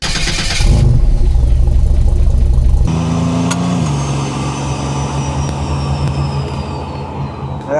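A turbocharged GM 4.3 V6 in a Buick Grand National running on E85 idles and revs loudly up close, its steady engine drone shifting pitch as the throttle changes.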